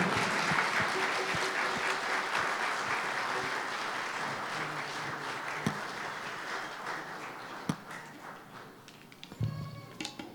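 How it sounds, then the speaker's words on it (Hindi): Audience applause at a church Christmas carols program, a broad sustained clapping that fills most of the clip and gradually thins out, with a few scattered claps and faint room noise at the end. "आप सबके लिए भरपूर तालियां।"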